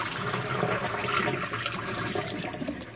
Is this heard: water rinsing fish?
yes